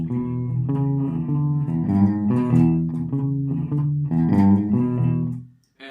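A Godin guitar shuffles through a twelve-bar blues figure with a major third added, its even, bouncing low note pattern ringing up close before stopping briefly near the end.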